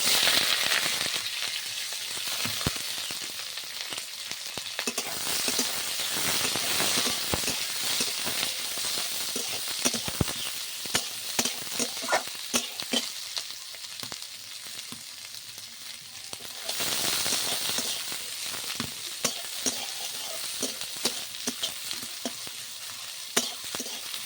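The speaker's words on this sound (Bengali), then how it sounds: "এখানে 6টা 7টা পেঁয়াজ কুচিয়ে নিয়েছি, দিয়ে দেব এটা তেলে।" Six or seven chopped onions fry in hot oil with dried red chillies and cinnamon for butter chicken. They sizzle loudly and continuously, with frequent scraping and stirring clicks close by and no talk.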